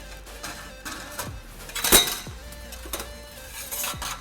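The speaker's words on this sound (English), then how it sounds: "we can now install our Borla front pipe onto the catalytic converter" Metal parts of a Borla exhaust front pipe clink and scrape against the catalytic converter as they are fitted together on a GMC Sierra, with a few light knocks and one sharper metallic clank over a steady background hum.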